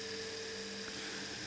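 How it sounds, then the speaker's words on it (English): A fully automated, solar-powered robot lawn mower runs with a steady, even mechanical whine and hum, continuous and unbroken throughout, heard alone without any voices. "the fully automated, solar-powered mowing robot that gets him excited"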